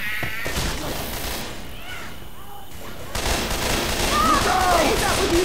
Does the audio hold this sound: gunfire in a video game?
yes